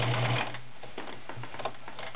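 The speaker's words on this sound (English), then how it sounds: "As you can see, it's just pulling that denim right" A vintage Kenmore model 1318 sewing machine stitches through denim, giving a steady close mechanical whir with a faint rhythmic clatter, running alone without talk.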